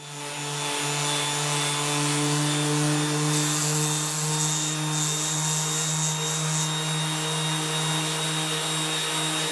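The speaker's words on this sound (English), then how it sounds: "we'll give this a quick sand and then we'll see how things are from there" A steady, loud mechanical whine of a power sander running continuously on a wooden guitar body blank, with a constant hum and a brief higher-pitched shift partway through; no talking.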